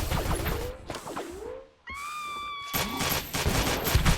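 Rapid bursts of gunfire with laser-like zaps from a firefight in a hallway in the space station game Space Station 14, loud and dense in quick volleys, broken by a short lull and a rising electronic tone.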